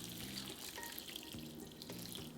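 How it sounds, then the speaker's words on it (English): Hot water is poured into a bowl of dry glass noodles, a faint, steady gurgling stream with splashy, bubbling pulses, heard quietly and alone. "In a bowl, add the glass noodles and hot water."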